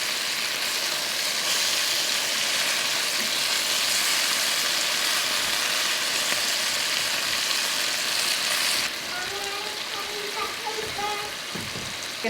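Beef stew meat sears in a hot pan with a loud, continuous sizzle and crackle that drops slightly near the end as pieces are turned, with no talking.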